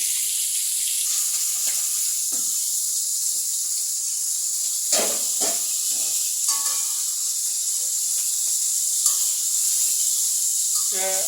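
Pieces of silver carp fish fry in hot oil, giving a loud continuous bright sizzle with occasional spitting crackles and light stirring scrapes.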